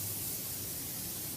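Nonstick cooking spray misted onto a 9-inch round pan, a steady close hiss lasting just over a second before cutting off.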